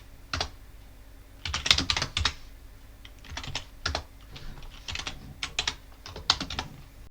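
Keys clatter on a computer keyboard as a command is typed into a Linux terminal, coming in quick bursts of clicks separated by short pauses and sounding close and fairly crisp throughout.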